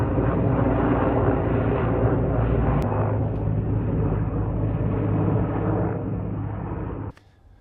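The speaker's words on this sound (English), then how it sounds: "That helicopter's been flying around making all kinds of racket." A helicopter drones steadily overhead near a woodlot of Douglas fir and madrone logs by a sawmill, its loud broadband rotor and engine roar holding continuously before cutting off abruptly near the end.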